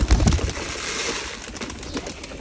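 Pigeons on a farm coo close by, low throaty calls loudest at the start, over a busy background of rustling and movement, with no talk.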